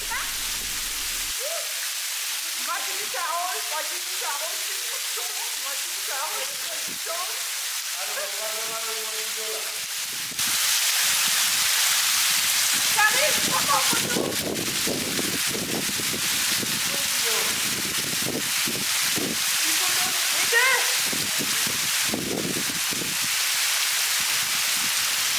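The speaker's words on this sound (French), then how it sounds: "Cascade de Dindéfelo." Dindéfelo waterfall in Senegal, a constant broadband hiss of falling water, quieter at first with people talking over it, then louder and closer as voices continue intermittently.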